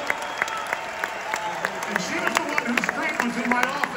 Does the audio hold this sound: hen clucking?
no